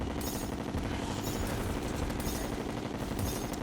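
Chlorophyte bullets fire in Terraria, a steady, dense stream of rapid gunshots rattling continuously at moderate loudness with a few sharper accents.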